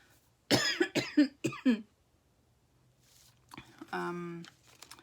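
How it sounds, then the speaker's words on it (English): Several harsh coughs in quick succession, followed by a pause and then a person speaking. "I always start coughing when I record the podcast."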